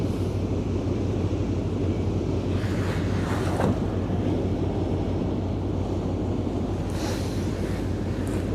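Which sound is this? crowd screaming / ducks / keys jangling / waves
waves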